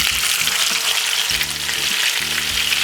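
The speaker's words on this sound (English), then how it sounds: "I want to fry them all up" Fish fries in oil in a medium pan on a stove for Jamaican-style fry fish, giving a dense, steady, close sizzle with faint bubbling pops and no voices.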